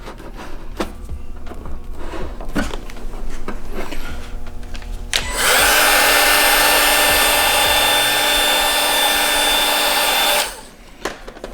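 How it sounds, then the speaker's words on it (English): A heat gun blows over vinyl wrap on a VW Tiguan's badges, a loud steady whirring hiss that starts abruptly after some light handling knocks and runs for about five seconds before cutting off. "You take the heat gun, give it a bit of heat"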